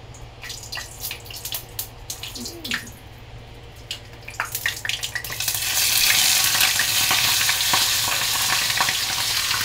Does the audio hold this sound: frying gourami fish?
yes